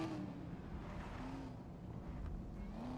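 A Mercedes SL65 V12 engine in the racing game Need for Speed: Most Wanted drones steadily close by, a low rumbling hum with slight shifts in pitch, with no voices.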